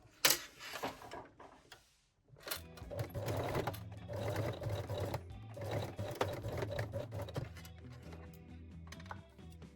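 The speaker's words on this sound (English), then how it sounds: "sew it again with a straight stitch" A sewing machine runs a straight stitch on a cosmetic pouch, with a few clicks and a brief pause before a steady, close whirring run of stitching that continues to the end.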